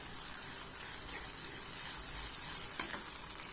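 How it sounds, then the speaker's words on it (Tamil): Ginger garlic paste sautéing in a pan for mullangi sambar, a steady close-up hissing sizzle with a few soft stirring knocks. "இப்போ பாருங்கள், இஞ்சி பூண்டை சேர்த்து அந்த பச்சை வாசனை போகிற அளவுக்கு நல்லா வதக்கிக்கங்க."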